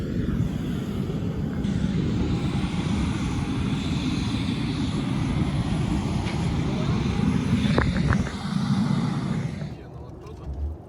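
A steady, loud drone of an aircraft engine at a small airport in Kazakhstan holds for about ten seconds, broadband and rumbling, with a brief faint clatter near the end before it eases.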